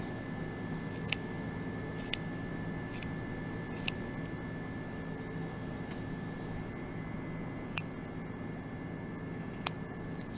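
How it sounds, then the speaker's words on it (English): Scissors cut through the layers of an eye's cornea during a dissection, producing a few sharp, isolated snips spaced irregularly over a faint steady hum, close and quiet. "you can hear me cutting the layers of the cornea."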